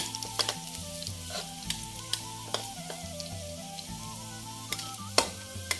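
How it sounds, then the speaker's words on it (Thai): Garlic frying in hot oil while being stirred: a continuous close sizzle with scattered scraping taps of a utensil, and a faint tonal hum running underneath, with no talking. "น้ำมันร้อนแล้วครับ น้ำมันร้อนเจียวกระเทียมครับเจียวกระเทียม"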